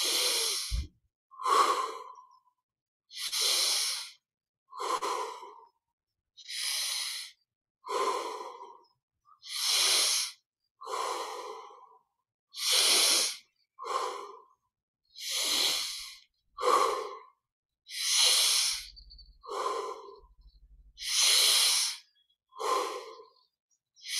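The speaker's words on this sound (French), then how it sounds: "Et on respire 20 fois profondément. Inspire par le nez, expire par la bouche naturellement." Slow, deep breaths during guided breathing meditation, drawn in through the nose and pushed out through the mouth, about a dozen even cycles heard close and alone in a quiet room.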